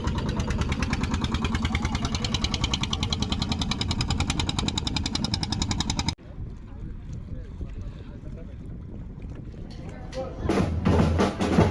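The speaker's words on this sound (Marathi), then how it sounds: "धनेश नाकवाची बोट निघलेली आहे." Boat engine as a fishing boat departs during a Narali Purnima festival at Diva Koliwada, a loud, steady rhythmic chugging for six seconds, then wind and water rumble with voices rising toward the end.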